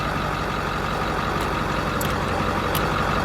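A 1990 Ford Escort with a nearly dead battery cranks over, giving a steady, loud, unbroken mechanical drone that runs the whole time with no voices.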